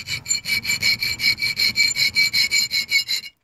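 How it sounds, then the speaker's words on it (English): Needle file rasping dents into a knife made from a bike tool, a rhythmic series of about fifteen quick, even scraping strokes, close and clear with no talking. "I'm just going to use a little needle file to create some little dents down here."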